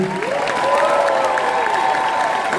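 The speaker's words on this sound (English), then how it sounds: "please give a big shout and applause for our white bat crew" An audience at a Halloween Horror Nights convention panel cheers and applauds for the volunteer crew, a loud close wash of clapping with a rising shouted voice over it.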